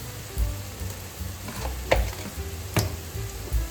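Black pepper and other spices fry in hot vegetable oil in a pan for buckwheat pilaf, a steady close sizzle broken by a few sharp stirring scrapes, with no voices.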